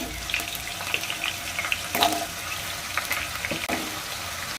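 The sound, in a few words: potatoes frying in hot oil in a pan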